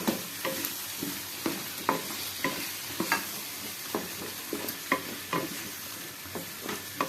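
Chopped potatoes are stir-fried in a mustard masala for a fish curry, giving a soft, steady sizzle. A spatula scrapes and taps the pan in frequent, irregular strokes, close and fairly quiet, with no voices.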